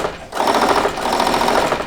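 A sewing machine runs loudly and steadily up close with a fast mechanical rattle, starting after a brief pause and continuing without talk.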